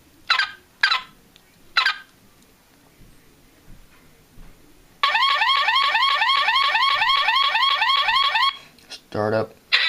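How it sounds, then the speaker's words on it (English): A toy Road Ripper car sets off its electronic alarm, a loud repeating warble of rising tones that runs steadily for about four seconds after some scattered earlier beeps, ending with a short buzzing burst. "This is the alarm."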